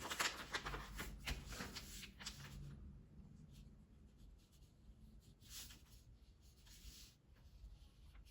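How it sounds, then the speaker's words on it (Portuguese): Pen scratching out an apple outline on nylon fabric for a patchwork coaster, soft dry rubbing strokes in short bursts, close and quiet, with pauses between marks. "E aqui eu vou riscar nele o desenho da minha maçã"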